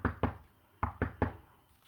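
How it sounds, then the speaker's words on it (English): Five loud, sharp knocks in a ceremonial magick ritual, struck in two quick pairs followed by a single blow, each one ringing briefly in a quiet room. "and Leo loudly knocks"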